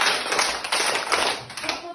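Children in a primary school classroom clap hands in a counted sequence, a few close, loud sharp claps forming a short pattern that repeats.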